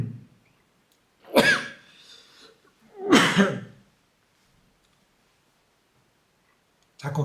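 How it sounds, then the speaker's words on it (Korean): Two sharp, close coughs a couple of seconds apart in a quiet room, followed by silence and a brief sound at the very end. "자꾸 기침이 나네요."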